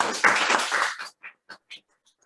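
Brief applause from a small group, a burst of clapping that fades into a few scattered last claps before stopping.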